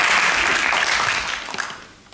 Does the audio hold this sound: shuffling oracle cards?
no